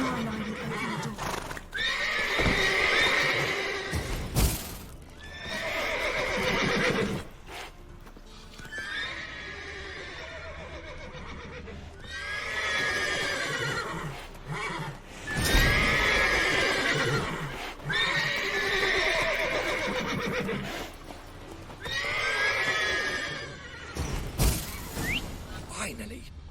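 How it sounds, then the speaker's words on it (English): Repeated loud whinnies and neighs from agitated horses in The Witcher 3, rising and falling in several long bursts, with hooves clopping and thumping beneath and a few sharp knocks, all close by. "Calm the horses."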